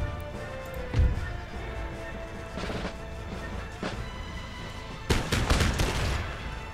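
Musket volleys in an Empire Total War battle, scattered cracks and a louder ragged burst of several shots near the end, heard over a low battlefield rumble.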